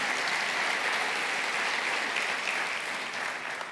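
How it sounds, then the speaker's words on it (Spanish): A church congregation applauds during a sermon, a steady wash of many hands clapping that fills the whole moment and fades slightly at the end. "Dale un aplauso al Señor."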